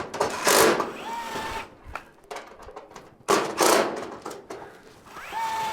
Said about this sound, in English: Two screws to tighten down the bracket that holds the roof on.